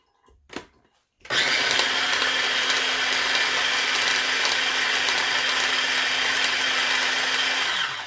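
After a short click, a small kitchen chopper motor whirs loudly and steadily for several seconds, then stops.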